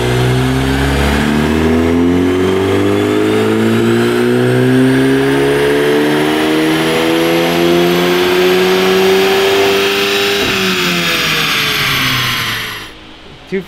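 A stock Volkswagen Golf GTI Mk8 with a Club Sport muffler revs on a dyno in fourth gear, a loud, near engine note climbing steadily for about twelve seconds before cutting off abruptly.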